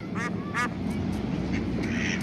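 A few short quacks from ducks in a backyard swimming pool in The Sopranos, two clearer calls up front and fainter ones after, over a steady background hiss.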